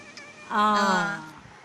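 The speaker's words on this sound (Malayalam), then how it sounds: "കേട്ടില്ലേ ഞങ്ങളുടെ പൂച്ചക്കുട്ടിയുടെ വിഷ്?" A single drawn-out kitten meow, clear and close, with faint background noise before and after.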